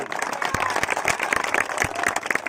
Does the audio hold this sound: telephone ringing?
no